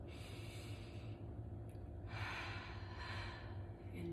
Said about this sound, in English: We're just taking deep breaths in